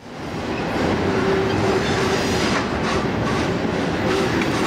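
Enola-bound freight train rolling through town, a loud steady rumble of wheels and cars with faint rhythmic clicks and a brief squealing tone, sustained without voices.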